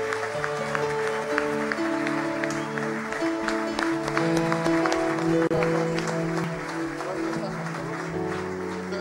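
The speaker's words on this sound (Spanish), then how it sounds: "Dele fuerte el aplauso al Señor." Church congregation applauding during a worship concert, steady clapping throughout under loud music with singing voices.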